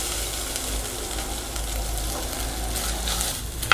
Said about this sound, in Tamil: அதுக்கப்புறம் நம்ம தேங்காயும் போட்டு ஃப்ரை பண்ணிவிட்டு தனியாக எடுத்து வச்சுக்குவோம்.